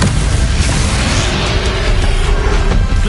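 A Bombarda spell detonates in Hogwarts Legacy on PS5, a loud, heavy booming explosion with deep rumble that fills the whole moment and rolls on without a break.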